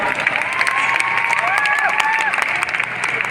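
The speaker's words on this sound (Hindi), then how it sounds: "मैं चाहूंगा बड़ी जोरदार ताली" Audience applause and cheering from a crowd at a speech event, steady and dense throughout, with some whistles and voices mixed in.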